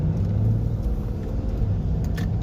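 Mercedes C-Class W205 engine rumbling steadily up close in comfort mode, pulling away from a stop with a low continuous drone and faint mechanical clinks.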